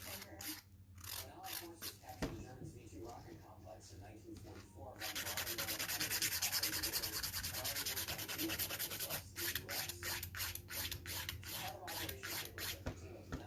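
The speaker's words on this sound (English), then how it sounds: "so again, hardly any filing." Fingernail tips are filed with a nail file in quick, soft rasping strokes, faint and close, building into a steadier scratching run midway, with a voice speaking quietly at times.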